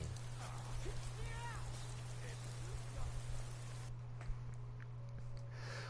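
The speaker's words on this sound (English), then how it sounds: "And I'm suffering from being under the rain." Rain falls in the video game Skyrim as a steady, even hiss that holds throughout, joined by a low constant hum and a few faint scattered sounds.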